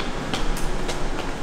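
A subway train rolls through an underground station, a dense, continuous roar of rail noise with faint rhythmic clicks and hissing bursts repeating every fraction of a second.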